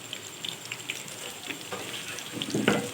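Chicken roll bites frying in hot oil give a steady bubbling crackle with scattered pops, growing louder and busier toward the end, with no talking.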